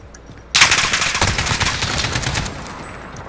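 AK rifle fire in Call of Duty Modern Warfare starts abruptly after a short quiet moment, then continues as a loud, rapid automatic burst that gradually tapers over about three seconds.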